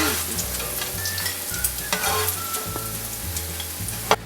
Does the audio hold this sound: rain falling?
no